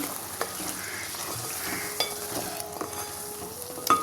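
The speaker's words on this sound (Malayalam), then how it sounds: "ഒന്ന് ഇളക്കി കൊടുക്കാം" A spoon stirs and scrapes around a pot of Kerala-style prawn theeyal curry, with soft clicks and a low sizzle underneath, close and fairly quiet.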